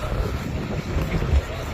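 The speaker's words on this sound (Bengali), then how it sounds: "মদিনায় প্রচণ্ড বাতাস ঠান্ডা আবহাওয়া" Strong wind buffets the microphone in a constant low roar, rising and falling slightly in gusts, on a cold, cloudy day in Medina.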